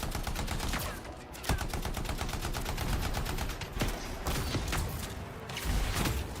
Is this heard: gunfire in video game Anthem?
yes